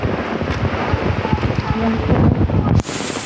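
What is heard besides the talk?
strong wind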